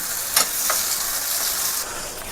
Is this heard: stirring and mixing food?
yes